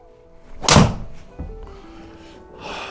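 A Stealth 2 Plus golf driver strikes a ball in a single sharp, loud, hollow impact near the start, followed by quieter thumps and a brief rustle.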